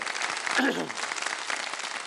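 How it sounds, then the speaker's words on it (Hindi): Studio audience clapping at the start of a televised quiz competition, a brief steady patter of many hands, moderately loud, with a short vocal sound briefly cutting through near the start. "एक दफा तालियां बजा दें ताकि मुकाबले का जरा बाकायदा आगाज कर डालें।"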